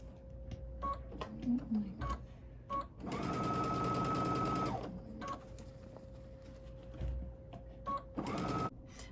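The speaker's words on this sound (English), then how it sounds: "make sure to sew that seam allowance to just one side" A sewing machine stitches a face mask seam in short bursts, with one long whirring run in the middle and a quicker run near the end, set among quiet clicks and handling sounds.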